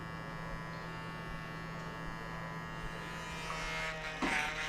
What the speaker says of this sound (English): Sometimes I'll go in with my clippers too, with no guard, just 0.